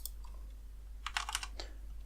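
Brief burst of computer keyboard typing while entering coordinates in a ComputerCraft program, a quick cluster of light, close key clicks after a quiet start, with no talking.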